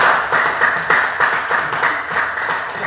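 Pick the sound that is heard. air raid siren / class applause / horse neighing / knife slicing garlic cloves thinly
class applause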